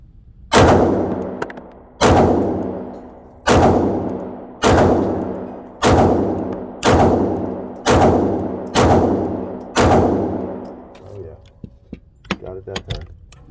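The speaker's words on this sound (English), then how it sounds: "now we got to see if I can get those shots to come a little higher" A Walther PDP pistol fires eight loud, evenly spaced shots at a steady pace, each with a decaying echo, followed by a few faint clicks and clatter.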